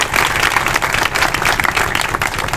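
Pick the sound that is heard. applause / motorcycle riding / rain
applause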